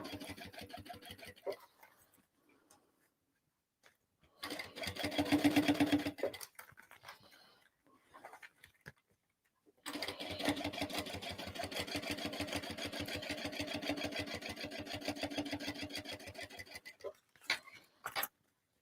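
Sewing machine stitching a bag's lining and exterior together with basting stitches, running in two bursts: a short one of a couple of seconds, then a longer steady stretch of about eight seconds, with quiet pauses between.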